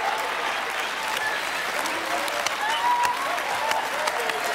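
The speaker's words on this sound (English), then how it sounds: "What are y'all clapping for?" A game show studio audience claps steadily for several seconds, dense and sustained applause filling the room, with a few voices faintly audible beneath it.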